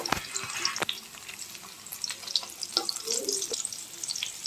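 Flour-coated teasel gourd pieces crackle as they fry in oil in a pan, with scattered sharp pops and occasional utensil clicks over a soft, close sizzle.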